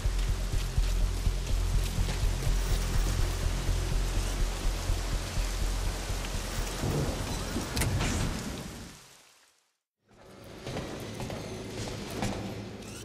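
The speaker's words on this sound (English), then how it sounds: "Alright, and it looks like it's started to rain." Steady heavy rain in Metal Gear Solid V: The Phantom Pain hisses densely and evenly for about nine seconds, cuts to brief silence, then resumes slightly quieter.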